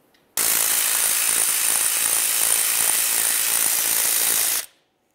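A power tool with a 7 mm Allen head socket spins out the brake caliper slider pins on a 2011-2018 Volkswagen Jetta, a single loud, steady whirring burst of about four seconds that starts and stops abruptly.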